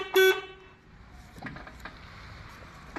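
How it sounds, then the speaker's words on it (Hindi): A Swaraj 50 HP tractor's horn gives one short, loud, close toot, followed by faint cab clicks and quiet background. "बीच में आपको यहाँ पर हॉर्न देखने को मिल जाता है।"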